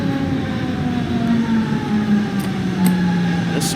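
A DB BR425 electric multiple unit in Train Sim World 2 rolls slowly toward a platform, its steady motor whine and rumble holding on without any voices.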